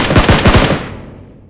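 Rapid automatic gunfire in the Mecha update of a mobile shooter game, a burst of about six loud close shots fading into a decaying echo.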